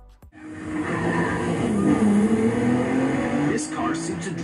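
Race car engine in a drifting video game, played on a gamepad through a projector: a loud sustained engine roar that rises and shifts pitch as it revs, with faint tire squeal near the end.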